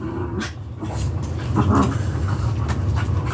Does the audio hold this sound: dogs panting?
yes